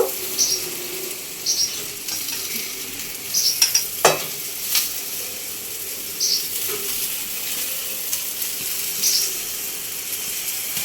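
Raw mango pieces fry in a pan with a steady, close sizzle, while a utensil stirs and scrapes them in scattered bursts and a few sharp clinks.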